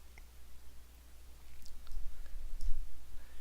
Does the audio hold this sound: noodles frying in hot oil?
no